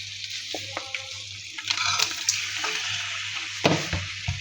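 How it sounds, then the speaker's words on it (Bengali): Cleaned and cut layer chicken pieces added to a pan of cooking spice paste, giving a crackling sizzle with stirring clatters and a sharp burst near the end over a low steady hum, no talk. "লেয়ার মুরগি আগে থেকে ধুয়ে কেটে পরিষ্কার করে রেখেছি এখন দিয়ে দিব"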